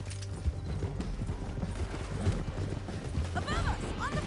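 Horses galloping with steady clip-clop hoofbeats in Red Dead Redemption 2, a western video game, set against a busy rumbling mix with brief shouted voices and a whinny-like call near the end.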